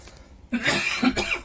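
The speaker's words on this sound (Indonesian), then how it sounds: "maaf, batuk bosku" A person coughs a few times in quick, harsh bursts, close and fairly loud, after a brief quiet moment.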